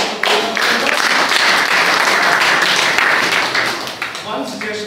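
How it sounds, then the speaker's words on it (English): An audience at a speaking event applauds in one sustained round of close, full clapping that swells, holds, then tapers off near the end. "So a big round of applause."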